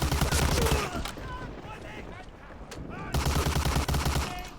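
Gunfire in the video game Medal of Honor: Allied Assault, dense rapid machine-gun bursts with a pause in the middle, loud and close, with faint battle chatter underneath.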